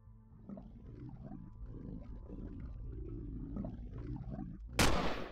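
Turret gunfire in the space survival game Empyrion Galactic Survival at a fuel depot and refinery: a low, rumbling roar runs throughout, then one sharp, loud blast cracks out near the end.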